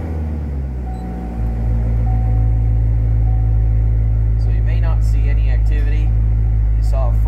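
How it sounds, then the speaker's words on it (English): A C7 Corvette engine cranks and fires up, settling into a loud, deep, steady idle rumble close by, while a person talks over it. "we're going to go ahead and start it up for the first time"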